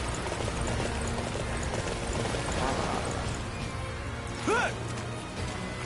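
Horse hooves clip-clopping at a steady gallop in Dynasty Warriors, continuous and fairly loud over game music and ambience, with a short whinny-like rising call near the end.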